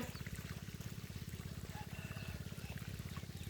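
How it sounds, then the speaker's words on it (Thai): Pumped water from the Mae Yao stream gushes out in a steady, continuous flow with a low rhythmic pulsing from the pump, heard alone at close range. "สูบน้ำจากน้ำแม่ยาวนะคะ"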